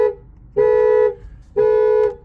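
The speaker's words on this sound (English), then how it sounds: "So I'll let that go to full alarm and then I'll enter the pin code. So alarm's now going crazy." A Volkswagen Golf R immobiliser alarm blares in two loud, steady tonal bursts of about half a second each, separated by a brief pause, close and harsh.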